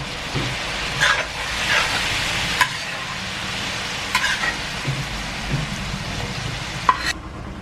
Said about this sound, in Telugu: ఫిష్ ఎగ్ వేస్తున్నా ఓకే ఇది కొంచెం ఆయిల్లో ఇవి కూడా ఫ్రై అవుతాయి